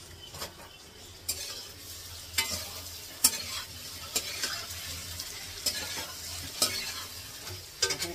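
Paneer frying in a pan makes a constant soft sizzle, broken every second or so by sharp clinks and scrapes of a utensil turning the pieces.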